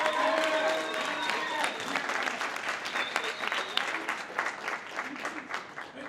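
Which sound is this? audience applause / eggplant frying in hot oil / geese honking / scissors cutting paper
audience applause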